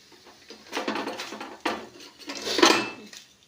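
Metal frying pan on a kitchen stove, handled in a few scattered clanks and scrapes, close and fairly quiet, with no talking.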